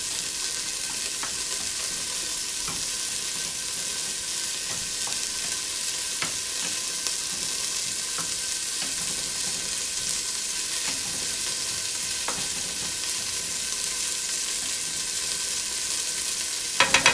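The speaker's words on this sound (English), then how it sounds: "cook them on all the sides until all the sides are a little bit brown and have a nice sear on them" Beef sizzling and frying in a hot pan while being seared brown on all sides, with steady crackling spatter and occasional light taps, running continuously with no talk.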